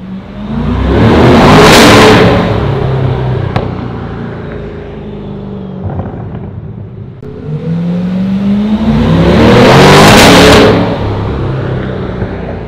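Coquette D10 sports car in GTA, its engine revving loudly in two big surges that swell and fall away, with a quieter idling stretch between them and no voices.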